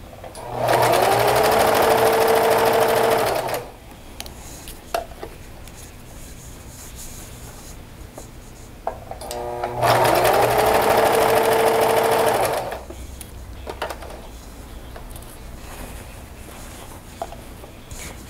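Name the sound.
sewing machine stitching fabric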